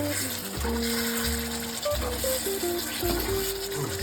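Eggplant curry sizzles steadily in hot oil in a pan, with a spoon stirring and scraping through it at close range; the frying hiss stays loud and continuous throughout.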